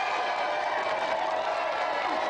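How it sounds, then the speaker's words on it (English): Studio audience applauding and cheering a special guest, snooker player Ronnie O'Sullivan, on a games TV show; a steady, dense wash of clapping at moderate level throughout. "round of applause for our special guest"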